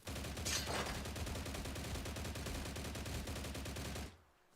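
Rapid automatic gunfire from a hard-recoiling weapon in the STALCRAFT video game, a dense, even stream of shots for about four seconds before cutting off abruptly to quiet.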